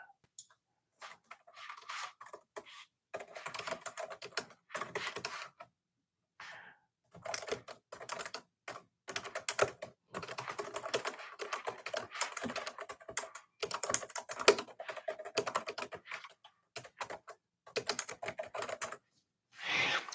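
Typing on a computer keyboard: quick bursts of close, crisp key clacks separated by short pauses, fairly faint and steady throughout.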